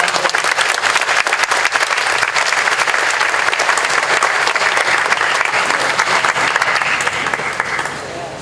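A festival crowd gives Governor Tony Evers a sustained round of applause, loud and dense clapping that holds steady before easing slightly at the end, with voices mixed in.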